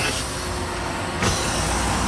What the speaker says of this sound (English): So we got to release the brakes.